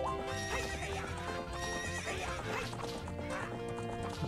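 Horse whinnies and clip-clopping hooves from the video game The Legend of Zelda: Ocarina of Time, set against a dense, continuous game soundtrack with steady music throughout.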